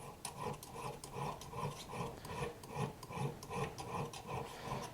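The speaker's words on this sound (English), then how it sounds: "I can take my file and work down this cutting lip." A hand file sharpens the cutting lip of a woodworking center bit, making rhythmic rasping strokes, roughly ten close, moderately loud back-and-forth passes in steady succession.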